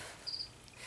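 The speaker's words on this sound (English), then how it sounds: "Please ignore the crickets." Crickets kept as live food for a pet bearded dragon chirp indoors with a single faint, high, steady trill lasting a fraction of a second over a quiet room.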